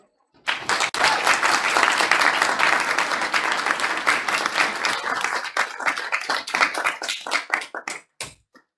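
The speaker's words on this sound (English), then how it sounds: "Can we all give it another round of applause?" An audience applauds a speaker at a spring speakers forum, with dense, loud clapping from the start that thins into scattered individual claps before stopping near the end.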